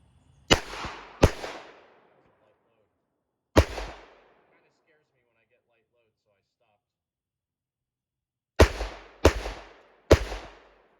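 .38 Special military and police revolver fired on a range, with six sharp loud reports: two close together, one after a pause, then a long gap and three more in quick succession, each with a short decaying tail.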